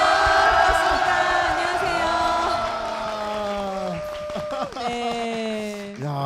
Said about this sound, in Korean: 엄청난 함성으로 네. 시작을 했는데요